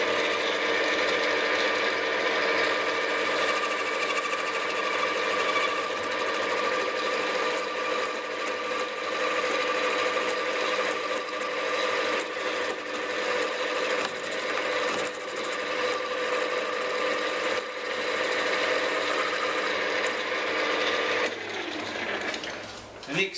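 A lathe parallel turning a workpiece runs with a steady, continuous mechanical whir and chatter that holds for the whole stretch before tapering off at the end.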